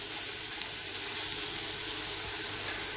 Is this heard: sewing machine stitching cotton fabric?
no